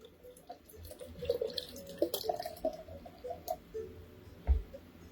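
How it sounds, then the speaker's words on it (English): Nitro beer given a hard pour into a glass, with soft splashing, dripping and ticking liquid sounds scattered close by over several seconds, no talk. "All right, let's do a hard pour on it."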